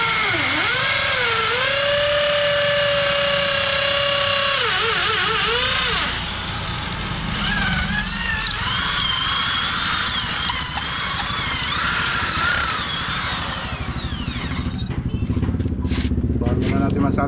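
A motor runs loudly and continuously, its droning whine shifting pitch and rising midway, with clattering mechanical noise near the end.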